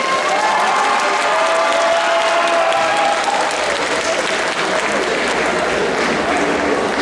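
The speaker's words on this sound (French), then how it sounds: "Les accessoiristes, on les applaudit fort," A crowd at a Saturday cosplay contest and parade at the Necronomicon 2025 convention applauds the prop makers. The clapping is loud and steady throughout, with some cheering mixed into the crowd noise.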